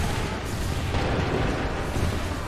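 Cannon volley in Assassin's Creed III Remastered, a dense rumbling roar of heavy fire that rolls on continuously, loud and booming without any voices.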